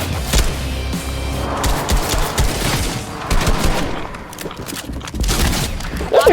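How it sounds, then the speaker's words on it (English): Shotgun fire in a video game crackles in rapid, loud bursts mixed with booms and impacts, dense and continuous across the moment, with brief voices in the mix. "Okay, shoot out the window."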